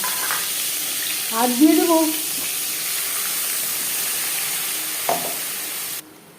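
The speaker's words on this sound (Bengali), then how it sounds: "ডিম ভেজে নেওয়া কড়াইতে আবারও তেল দিয়েছি, দিয়ে দিলাম একটা তেজপাতা" A bay leaf frying in oil in a wok, a soft continuous sizzle under a brief spoken phrase, with a light clink partway through before cutting off.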